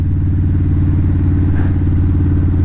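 Loud, close idle of a Kawasaki VN 1600 Mean Streak cruiser exhaust: a deep, steady, lumpy V-twin burble that holds constant throughout with no revving and no voices.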